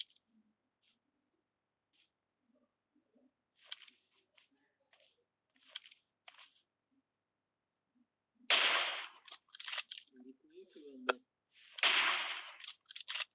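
Gunfire from the mobile battle royale PUBG Mobile, with a few faint scattered shots early on, then a burst of loud, sharp reports clustered near the end.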